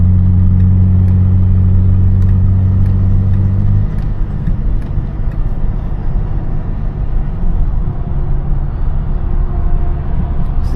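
BMW E39 528i driven through city streets, engine rumbling loudly and steadily close by with a deep low drone that drops after a few seconds, exhaust crackle hard to pick out.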